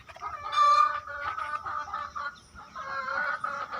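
Kadaknath hen on a Punjab farm clucking in repeated, moderately close bursts, with a steady low rumble of background noise and no talking.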